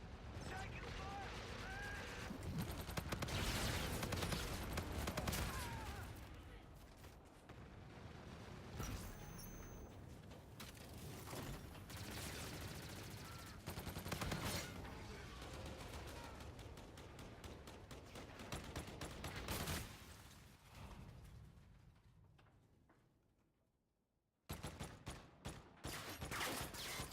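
Sustained video-game gunfire, dense volleys of shots and bursts running for nearly half a minute with a brief drop to near silence before firing resumes; voices speak over the shooting.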